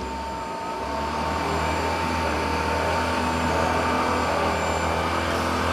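A Dyson 360 Vis Nav robot vacuum runs over lumpy carpet, producing a loud, steady motor whine and airflow roar that swells slightly as it works, close and continuous with no talk.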